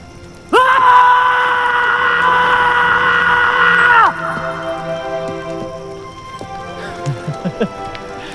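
A loud, sustained human scream from a throat-tearing outburst in a Bollywood action setting, held for several seconds before breaking off, then followed by quieter tonal sounds and short vocal bursts.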